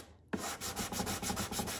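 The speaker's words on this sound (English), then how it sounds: "I'm basically sanding that wenge down." Close, rhythmic rasping of sandpaper rubbed by hand back and forth over wenge wood veneer, about a dozen quick even strokes with no talking.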